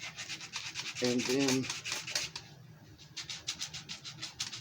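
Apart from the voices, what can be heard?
sanding a wood carving of a French bulldog, sassafras wood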